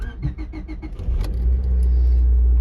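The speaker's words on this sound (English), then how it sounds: "I'll get ready to turn on the car." A Honda fitted with a Hondata s300 engine management unit cold starts after a run of rhythmic starter cranking pulses, then settles into a loud, deep, steady idle close by, with no talking.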